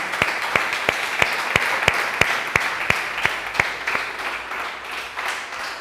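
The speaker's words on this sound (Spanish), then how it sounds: "Le doy un aplauso a Él" Church congregation clapping during a sermon, with many hands applauding at once and a strong, regular rhythmic clap beating through the steady applause.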